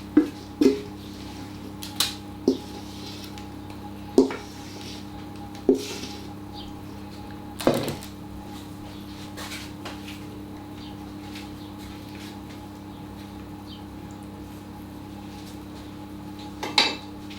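A spatula scrapes Dorset apple cake mix from a mixing bowl into a cake tin, giving a series of sharp, sparse knocks and clinks spaced a few seconds apart over a quiet room hum.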